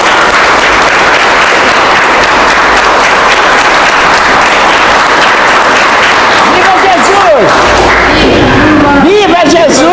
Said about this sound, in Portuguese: Mais uma salva de palmas para nosso Senhor Jesus.